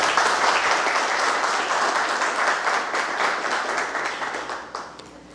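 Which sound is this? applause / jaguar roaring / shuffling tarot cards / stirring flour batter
applause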